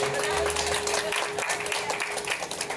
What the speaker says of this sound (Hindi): एक बार जरूर तालियां होनी चाहिए पापा के लिए